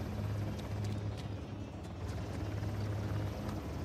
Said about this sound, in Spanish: ¿Dónde estás, helicóptero?